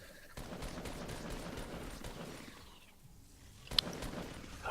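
Rifle gunfire from a zombie-shooting video game during a duos match, heard as a quiet, steady spread of shots through most of the stretch, with one sharper crack near the end.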